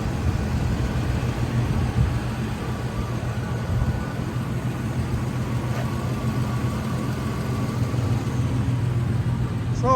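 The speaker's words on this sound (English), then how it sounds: "The engine runs nice and smooth." A 1995 Ford Ranger pickup with a new brake line and a lift kit idles smoothly, a steady low engine rumble running close and even for the whole stretch with no talk over it.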